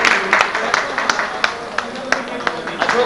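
An audience at a railway retirement function in Jammu claps in rapid bursts of sharp, overlapping hand claps. Someone talks loudly over the clapping.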